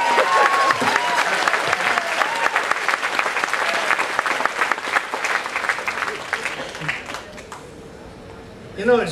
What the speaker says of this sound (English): it's great to come on here and get applause like this